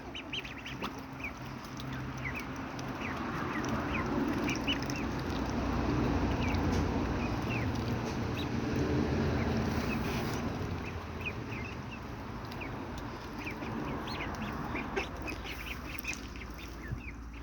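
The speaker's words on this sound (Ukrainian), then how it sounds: "В них вже пробивається в голосі крякання" Soft, scattered quacking and peeping from a group of growing ducklings, faint and fairly distant over a steady background hum.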